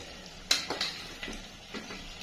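Tomato, cinnamon, cardamom and cloves sautéing in a pan for chicken do pyaza, with soft sizzling and a few brief stirring scrapes and clinks across a short stretch.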